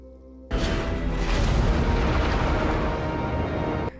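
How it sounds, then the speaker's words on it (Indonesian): A deep, heavy torpedo explosion from a German submarine's attack on a ship bursts in suddenly and rumbles on loudly with a sustained roar before cutting off. "kapal selam milik Jerman ini pun melepaskan torpedonya"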